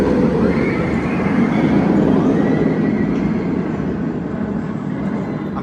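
Gold Striker, a wooden roller coaster at California's Great America, running a single train: a steady, loud rumbling roar that fills the whole stretch without letting up, with no voices over it.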